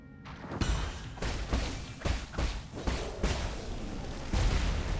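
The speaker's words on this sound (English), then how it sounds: "we had to get the explosion right next to the door" An explosion set off beside a door in the side-scrolling action game Nine Sols, heard amid a series of heavy thuds and booming impacts spaced about half a second apart, loud and close, with no speech.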